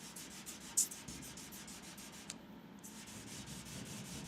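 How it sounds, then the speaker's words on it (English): Steady rhythmic rasping of hand sanding on a car's clear coat, strokes going back and forth at an even pace, close up with a brief pause in the middle. "It actually has a sound difference when it is flat sanding versus going over ridges and runs"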